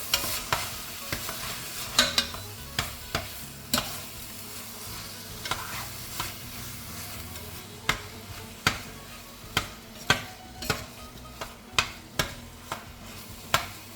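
A spoon stirs Bolognese sauce cooking in a pan, a soft sizzle under repeated scraping and tapping strokes at an uneven rhythm, close and without talk.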